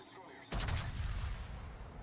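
A battleship's rear gun in World of Warships firing in one loud, sudden boom that rolls into a sustained rumble and fades slowly, with no other sounds.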